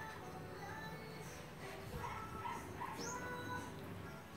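A Lhasa Apso giving birth lets out faint whimpers and small yips, scattered through a quiet room with a low background hum and faint human voices nearby.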